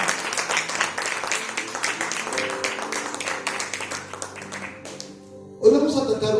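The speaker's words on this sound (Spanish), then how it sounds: "Un aplauso fuerte al Señor." Congregation applause in a church service, lively scattered clapping for about five seconds that thins out, followed by a sudden burst of music or voices.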